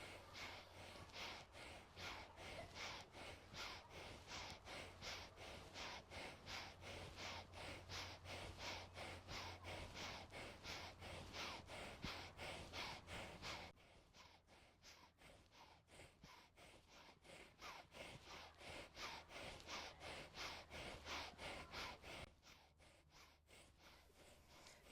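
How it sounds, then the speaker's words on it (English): Rapid, repeated sharp breaths through the nose pulse in a steady rhythm throughout, like quick inhales during an energizing arm-swing breathing exercise, with a brief quieter stretch midway before the breathing resumes at the same pace. "Inhale sharply in deeply when each hand is up"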